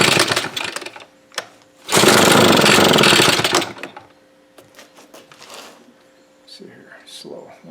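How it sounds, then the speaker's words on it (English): Gasoline leaf blower with a starting fault, its engine bursting into a loud roar for a couple of seconds before dropping away, with shorter sputters and someone talking around it. "I expect this thing to start right up"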